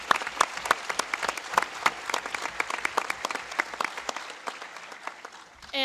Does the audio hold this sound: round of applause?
yes